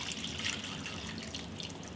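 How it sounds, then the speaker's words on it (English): Two cups of water pour steadily into the bottom of a roasting pan holding chicken with rosemary and thyme, a soft continuous trickle and splash without pause. "I'll add 2 cups of water to the bottom of the roasting pan."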